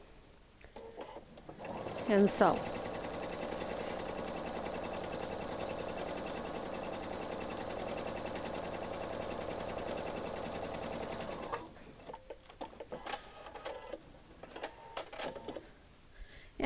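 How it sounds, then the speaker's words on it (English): A sewing machine stitches fabric for a quilt block in one long, steady, close whirring run of about nine seconds, with a brief spoken phrase before it and handling noises afterward. "Go to my sewing machine."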